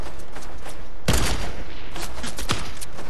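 Sniper rifle fire in a Fortnite solo match: one loud, sharp shot cracks out near the middle, with a second fainter report shortly after over a steady background of game noise.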